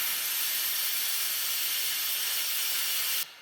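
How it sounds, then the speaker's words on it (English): A Reliable 4000is boiler iron vents steam in a loud, continuous hiss that holds steady for about three seconds before cutting off abruptly. "So you're going to keep holding that down until all of the steam is out."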